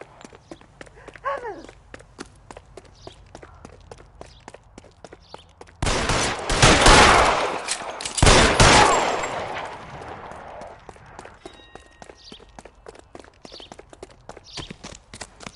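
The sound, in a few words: gunfire in video game LA Noire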